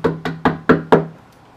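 Five sharp knocks on a door in quick, even succession, close and loud, followed by a faint sixth tap and silence.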